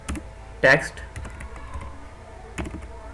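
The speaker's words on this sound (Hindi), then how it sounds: "मैं लिखता हूँ इनपुट और इसका टाइप दे देता हूँ" Keys clicking on a computer keyboard while typing out a Bootstrap form input field, with light taps and a couple of sharper, louder strokes, under intermittent speech.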